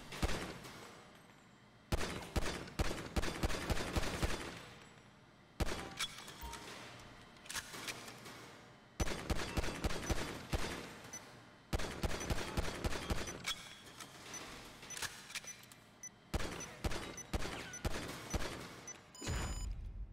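Pistol gunfire in GTA V, bursts of rapid sharp shots in repeated volleys separated by brief quiet gaps, loud and close with mechanical clatter between.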